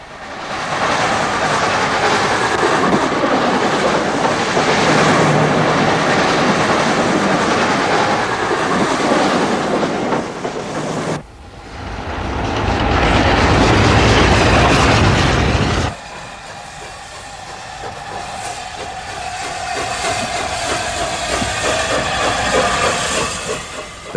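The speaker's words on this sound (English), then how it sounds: "It's a nice place to watch trains go by." A British Railways train passes on the main line at Hadley Wood, loud and close, with steady rolling clatter and hiss, a brief dip, then another heavy surge before the roar fades into a lighter rumbling rhythm.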